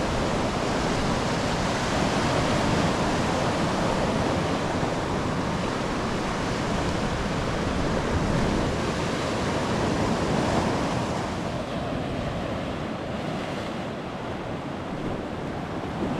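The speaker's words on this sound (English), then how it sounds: "the tide is coming quite a long way up over the ledge now" Continuous broadband wash of sea waves and tide surging over the rock shelf of Dancing Ledge on the Quarry Coast, with the rush easing slightly toward the end and no voices.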